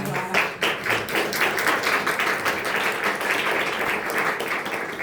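An audience at a book award event applauds warmly, with steady, dense clapping at close range that keeps an even level throughout.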